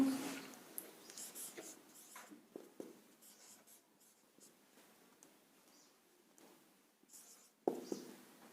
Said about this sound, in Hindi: यहाँ पे मैं लिख रहा हूँ